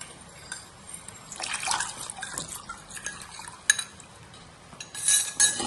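A custard mixture made with milk and custard powder is stirred into milk for mango ice cream, giving soft liquid swishes and a few light clinks of a spoon against the bowl, fairly quiet throughout.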